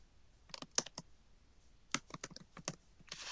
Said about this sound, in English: With the cell selected, you just start typing it.